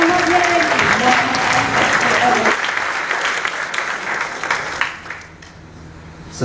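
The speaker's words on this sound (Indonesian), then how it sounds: "Kita sambut dengan aplaus yang meriah." Applause from the audience at a university public lecture, a dense, loud burst of clapping at close range that fades out gradually over several seconds, with a voice briefly audible at the start.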